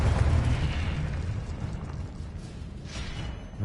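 A Confringo blasting spell bursts in Hogwarts Legacy, a deep booming explosion at the start that fades into a rumbling, crackling tail of debris and game ambience.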